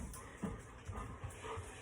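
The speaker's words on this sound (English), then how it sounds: "Got the dog in here panting" Quiet, rhythmic breathy huffs from a dog panting close by, with faint shuffling in the background.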